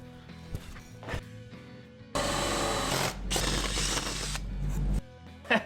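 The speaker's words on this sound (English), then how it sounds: "let's go and drill it then" A loud, steady power-drill whine runs for about three seconds as the bit bores into fiberglass bodywork, the pitch wavering slightly, with quiet clicks and handling before and after.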